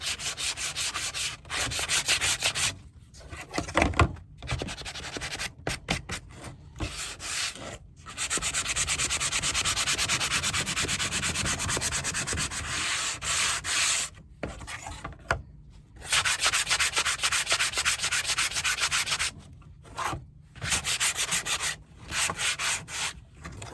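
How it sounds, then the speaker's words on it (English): Power sander working over a dried wooden Valentine heart decor stand, a steady loud whirring grind in long bursts broken by short pauses, with no talking. "I'm going to take my sander."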